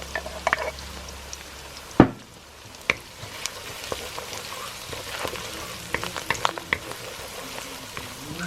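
Ginger garlic paste frying in a pan with bay leaves for a snail and potato curry: one sharp clatter, then a steady close sizzle broken by light stirring scrapes and taps, no voices.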